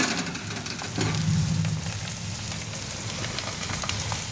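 Taro leaves added to spice paste frying in a pan give a broad, steady sizzle, briefly louder as they go in, then holding an even crackle with no voices.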